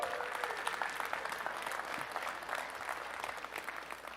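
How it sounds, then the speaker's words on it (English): Distant, steady applause from the audience at CitizenCon 2018 in Austin, Texas fills the whole stretch, a continuous patter of many hands at moderate volume. "Round of applause."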